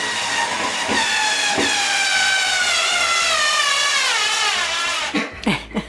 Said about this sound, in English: My drill ended up working.